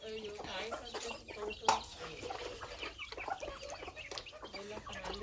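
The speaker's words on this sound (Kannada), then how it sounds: "ಎಲ್ಲ ನಾಟಿ ಕೋಳಿನೇ ಕಣ ಇದು." Native country chickens, hens alongside black and red roosters, cluck softly and repeatedly at close range while people talk nearby.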